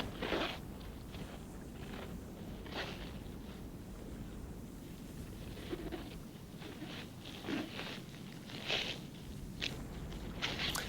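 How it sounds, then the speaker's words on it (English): An otter feasting on a freshly caught crab, its teeth crunching the shell in repeated sharp, brittle cracks spaced irregularly over faint outdoor wind noise. "I could even hear it crunching the crab's shell"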